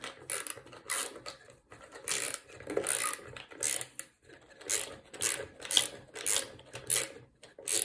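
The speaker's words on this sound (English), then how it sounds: "and tighten up the screw" A screw being tightened into a wooden nesting box gives repeated ratcheting, grinding mechanical bursts in an uneven rhythm with short pauses, close and fairly clear.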